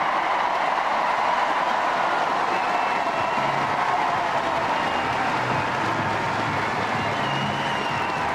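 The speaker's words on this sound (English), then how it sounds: "Just listen to the cheer for this man." Large stadium crowd roars continuously for distance runner Mo Farah at an indoor athletics meeting in Birmingham, a steady loud wash of cheering with no voices standing out.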